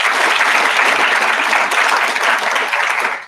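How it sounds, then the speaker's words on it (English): Sustained applause from a conference audience for the speakers of a session, a dense, steady wash of many hands clapping at full strength for about three seconds before tapering at the very end. "One last final round of applause for all the speakers in this session"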